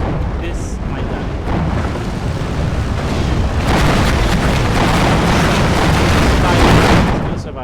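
Repeated mortar explosions in a video game form a loud, continuous booming rumble with dense overlapping blasts, heard under excited talking throughout.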